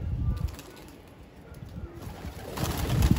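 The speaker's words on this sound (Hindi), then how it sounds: "ये कबूतर है ये कबूतर भाई हो" Pigeons cooing in short low bursts close by, amid soft rustling of birds being handled, with the calls growing louder toward the end.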